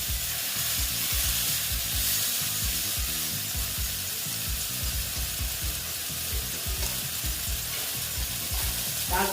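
Sliced pointed gourd fries with turmeric in hot oil, a steady close sizzle broken by rhythmic scraping and stirring of a spatula against the pan throughout.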